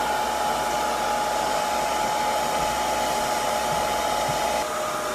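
A Conair bonnet hood hair dryer runs steadily, a constant close airy whoosh with a motor hum that stays even throughout, with no voices.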